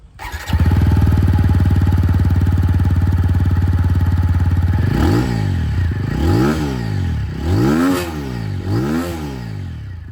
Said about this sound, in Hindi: बाकी एग्जॉस्ट साउंड आप लोग यहाँ पर इसके सुन लीजिए।